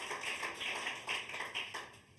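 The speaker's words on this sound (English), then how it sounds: "once again give Madeline a round of applause for coming along" Round of applause from an audience at a report launch event on climate risk and home insurance, thanking a guest speaker; steady dense clapping throughout with no voices.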